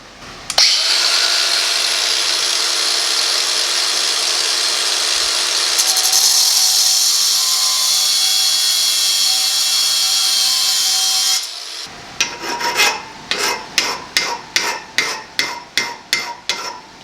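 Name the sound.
cutting off a lawn mower bolt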